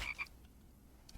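A frog gives a brief croak, two quick pulses close together at the start, then faint outdoor quiet follows.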